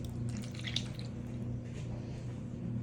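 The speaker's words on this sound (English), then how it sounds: "I'm gonna pour it in." Milk pouring from a container into pudding mix in a bowl, a close, continuous liquid trickle and splash with no talk.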